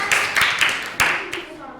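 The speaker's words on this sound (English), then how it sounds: "Please clap for Joshua" A few people clap for Joshua in a small art therapy session, several quick uneven bursts of applause over about two seconds, with voices mixed in.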